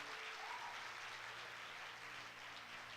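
A continuous, even patter of applause from the congregation at a Sunday church service, soft and distant throughout the short stretch.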